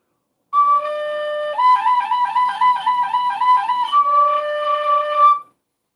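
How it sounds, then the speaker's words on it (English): A penny whistle plays a bright melody with held notes at the start and end and a quicker run of notes in the middle, clear and alone with no talking. "I'm a professional flutist, even though this is a penny whistle."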